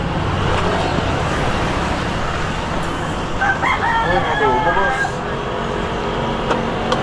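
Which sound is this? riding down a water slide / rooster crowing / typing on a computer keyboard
rooster crowing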